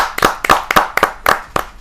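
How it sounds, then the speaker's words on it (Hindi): Loud, close claps welcome a poet at a Hindi kavi sammelan, arriving as a handful of separate sharp bursts in a loose, uneven rhythm rather than a continuous wash of applause. "जरा जोरदार तालियों के साथ हम स्वागत करेंगे"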